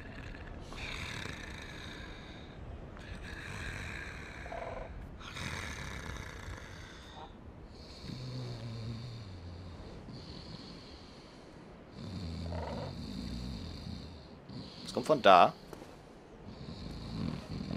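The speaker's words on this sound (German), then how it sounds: "Wer schnarcht mich hier an?" A creature in the video game Dark Souls snores in slow, repeated rasping breaths, each several seconds long, steady and fairly loud, with a short bump of other game noise near the end and someone speaking briefly.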